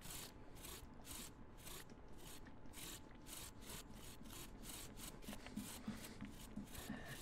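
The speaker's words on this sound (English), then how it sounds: "All right, gotta grind up the carrots, I guess." Carrots are ground in the game Carrots and Cream with a steady, quick series of faint, rasping scrapes, roughly two strokes per second, repeating evenly throughout.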